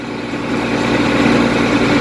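A 1586 tractor engine idles unworked, a steady low diesel rumble with an even throb, close and loud and growing slightly fuller over the couple of seconds.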